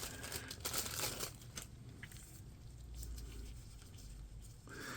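Someone fiddles with a little Ziploc plastic bag nearby, making faint, uneven crinkles and crackles that come in loose clusters over a few seconds, with no speech.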